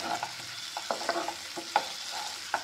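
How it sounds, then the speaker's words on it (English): Onion sweating in a pan over a medium flame, a soft steady sizzle with quick spatula stirs and light scrapes tapping through it, close and alone without speech. "Keep the flame on medium and let it sweat for 1 minute."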